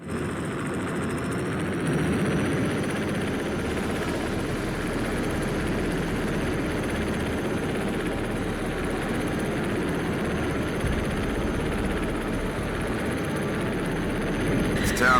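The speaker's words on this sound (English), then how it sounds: "I'm flying an enemy chopper" A helicopter engine in the video game H.A.W.X. 2 drones with a steady rotor roar, close and continuous throughout, with a faint brief shift near the start.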